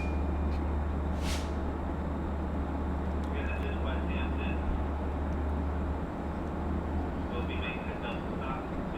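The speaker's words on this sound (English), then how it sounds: "This is Long Island Railroad's longest diesel train" A Long Island Rail Road diesel passenger train with 12 Kawasaki C3 bilevel coaches rumbles steadily past at Westhampton with a low engine drone and rail noise, with faint screeches and clanks at intervals.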